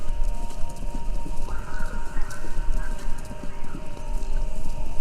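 Galloping horses from a radio broadcast in the video game Kentucky Route Zero, a continuous loud drumming of hooves over a droning, static-laden background, with no talk.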